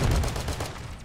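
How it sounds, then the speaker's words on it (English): Rapid automatic pistol fire from a Desert Eagle in a first-person shooter game, a dense burst of close, loud shots with heavy low-end thump that runs continuously for about a second and then starts to fade. "It's an automatic deagle."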